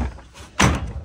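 A tri-fold hard truck bed cover on a Chevy Silverado being snapped down, a single sharp thunk landing midway after a quieter rustle, close and fairly loud.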